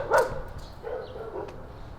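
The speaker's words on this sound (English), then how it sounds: "when the dogs aren't barking" A dog gives one sharp bark followed by softer, whimpering yips at a moderate distance over faint background noise.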